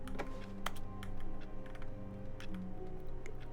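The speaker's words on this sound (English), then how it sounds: "Why is the telephone making keyboard noises?" Rapid keyboard typing clatter from a telephone in the video game The Stanley Parable, a steady run of close, crisp key clicks lasting several seconds with brief gaps between bursts, heard alone without voices.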